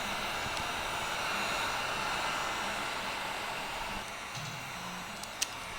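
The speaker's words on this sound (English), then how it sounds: "I'm gonna keep that heat gun going" A heat gun blows steadily on Tesla Model 3 back window tint, a constant airy whoosh with a whine, easing slightly near the end, broken by a faint click.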